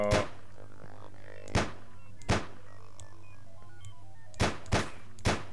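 Gunfire in the video game Sir, You are Being Hunted: five or six sharp, loud shots spaced irregularly over a steady low hum, with faint tonal game sounds between them and no talk.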